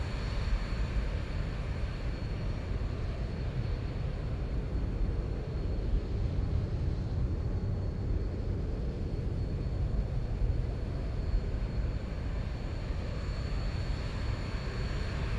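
Boeing 737 Zibo mod airliner cruising in the X-Plane flight simulator, a constant broad engine drone and airflow roar holding steady at even loudness throughout, with no talking.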